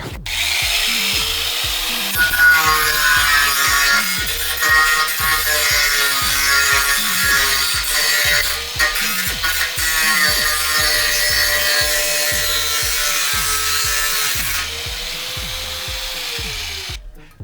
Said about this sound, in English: So we're just gonna completely grind it out.